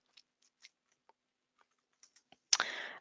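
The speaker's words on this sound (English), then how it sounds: "I'm going to type the author in here." Scattered light clicks of typing on a computer keyboard, a few sparse keystrokes at a time in a quiet room, ending in a louder burst of rustle or clatter.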